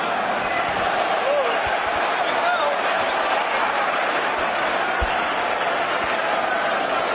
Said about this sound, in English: Wow, what noise, what a crowd to witness